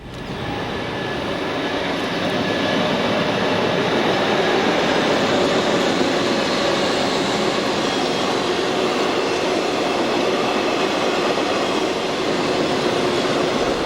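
A Norfolk Southern freight train, an unpainted new locomotive in primer among its units, rolls past on track 2 of the former Pennsy line with a loud, steady broadband roar of wheels and cars sustained throughout, no voices.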